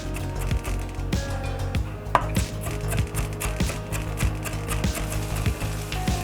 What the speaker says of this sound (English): Now I wanna chop the banana pepper.